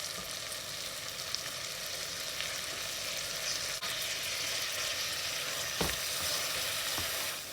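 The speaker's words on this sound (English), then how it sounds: "Stir a while before I add in the ground masala" Onions, tomatoes and mint leaves with ghee sizzling in a pan while being stirred for spicy prawn biryani, a constant close frying hiss with a few soft spoon scrapes and knocks, no talking.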